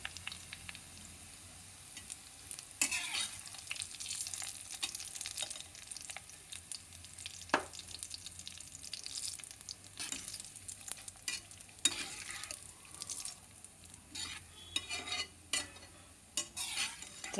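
Spices fry and are stirred in a pan, giving a soft continuous sizzle under irregular scraping and clinking strokes of the spoon against the metal, close and alone without talk.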